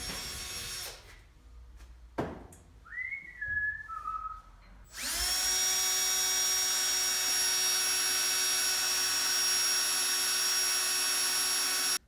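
A drill whines briefly, then a sustained high-pitched grinding screech of a bit cutting into metal runs loud and steady for several seconds.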